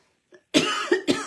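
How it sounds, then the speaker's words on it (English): A woman coughs while crafting burlap fall pumpkin decor, a faint breath followed by three close, harsh coughs in quick succession. "I don't want to start that coughing again."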